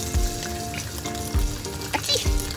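Meat searing over a strong flame at a day camp, a continuous close sizzle with a few low thumps and spits of fat popping; no talking is heard.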